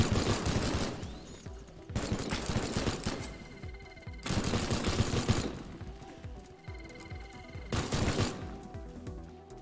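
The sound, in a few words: machine gun fire from an enemy in the video game Teardown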